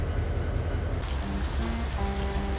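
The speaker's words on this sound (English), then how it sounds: "It was a rainy day also." Steady rain falls on a surface on a wet day beside a railway, a dense constant patter filling the scene, with faint low tones drifting through in the background.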